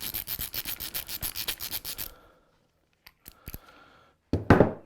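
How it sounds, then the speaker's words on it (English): A ratchet with a 3/4 inch socket loosens a nut on a garden cart wheel shaft, giving about two seconds of rapid, close ratcheting clicks, followed by a few metallic clinks and a final scraping rattle. "we just need a 3/4 inch socket, and we go ahead and take the nut off of the shaft"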